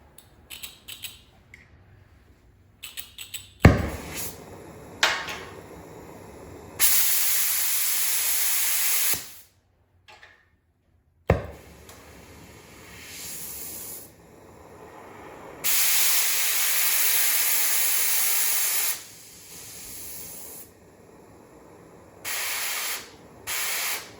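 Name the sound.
cutting torch cutting off seized rusty bolts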